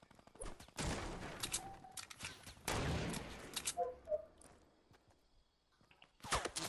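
Machine gun fire in a video game shooter, several loud close bursts of rapid shots separated by quieter gaps with faint footsteps and small clicks.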